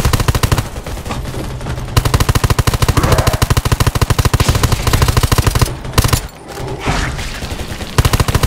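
Rapid automatic gunfire from the zombie shooter game Undawn, long loud bursts of machine-gun fire with brief pauses and a short gap near the end, no talking.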